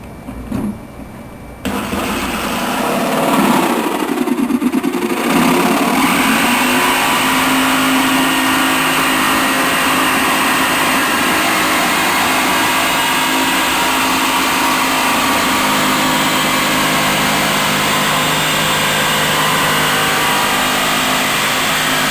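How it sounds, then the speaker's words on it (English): Jigsaw cutting a window opening into a computer case panel: after a brief start, a loud, continuous buzzing whine with a rattling edge runs steadily and close for about twenty seconds without talk. "now we can put our jigsaw in and start the cut and go all the way around"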